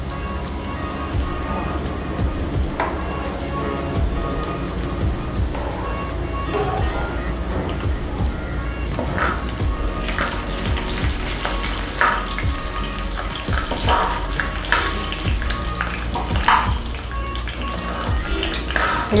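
Fried onions (beresta) are stirred in oil in a pan, giving a steady rain-like sizzle with scattered scraping ticks throughout, close and continuous with no talk.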